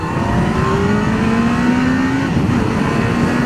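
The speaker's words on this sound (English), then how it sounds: "there is coming a car at 120 kph" A car at about 120 km/h passes on a highway, its engine tone sliding steadily under heavy wind roar picked up while riding a Kawasaki GTR1400 motorcycle, loud and continuous for a few seconds.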